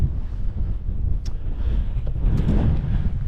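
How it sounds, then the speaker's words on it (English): Strong wind buffets the microphone on an open upland moor near the Wainstones and Cringle Moor, a constant low roaring rumble with gusting surges throughout, loud and steady with no voices. "The wind's a lot stronger than I was expecting"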